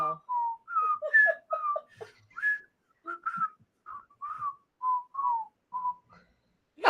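Two people whistle a duet together, clear melodic phrases of short and held notes at moderate volume, with a brief noise at the very end.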